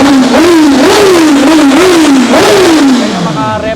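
A motorcycle engine fitted with a new, larger-bore muffler revs hard and close, its pitch rising and falling in repeated surges toward 10,000 RPM before winding down at the end.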